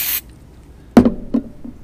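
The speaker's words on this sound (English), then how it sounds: "take the CSM3, the degreaser, spray it into a gauze sponge" CSM3 degreaser is sprayed from a can into a gauze sponge: a short hiss near the start, then soft handling thuds and rustles up close.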